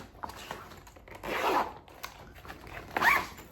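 Two quick zips of a zipper, close up, each a short rasping pull about a second and a half apart, with light rustling between.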